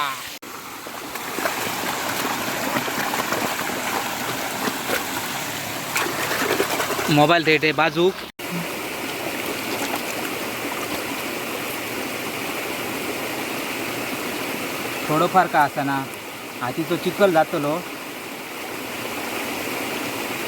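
Cold stream water rushes and splashes continuously through a Konkan forest, a steady nearby wash with people talking over it at intervals.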